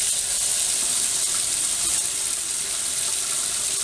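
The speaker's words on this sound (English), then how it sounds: "run a little water out of the faucet" Tap water running steadily from a household faucet, a constant bright hiss and rush with no breaks, fairly loud and close.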